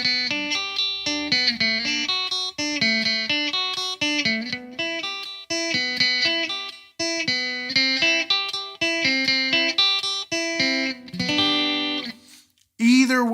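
Guitar arpeggios picked across the fretboard through an effects unit with slight distortion, clear ringing notes in quick, rhythmic phrases with short gaps between groups, played alone with no talking.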